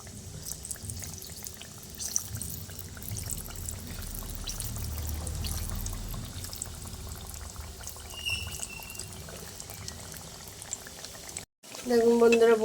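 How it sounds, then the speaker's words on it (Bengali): Coconut biscuits fry slowly in hot oil on a very low gas flame, giving a steady bubbling sizzle throughout, with a short break and a louder burst at the end. "এবার গ্যাসের ফ্লেমটা আমি একদম সিমে করে দিয়ে আমি এগুলোকে তেলের মধ্যে দিয়ে আস্তে আস্তে ভেজে নেব"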